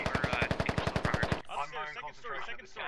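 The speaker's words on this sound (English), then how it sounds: "Albert Bly tries to push in, takes a shot to the neck and dies" Gunfire in a tactical military shooter video game: a rapid burst of about fifteen evenly spaced, punchy automatic shots, then someone talking quickly over fainter background action.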